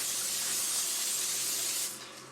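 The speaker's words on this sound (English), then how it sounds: "Here I've got coconut oil spray." Coconut oil cooking spray hisses from an aerosol can in one steady burst lasting about two seconds, close and fairly loud, then cuts off abruptly.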